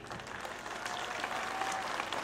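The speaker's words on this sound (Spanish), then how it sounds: "yo les pido un fuerte aplauso para ellas" An audience applauds the cooks at a chile en nogada festival in San Nicolás de los Ranchos, a continuous even wash of many hands clapping that holds steady throughout.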